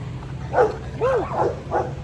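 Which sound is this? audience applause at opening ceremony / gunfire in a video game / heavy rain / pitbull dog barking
pitbull dog barking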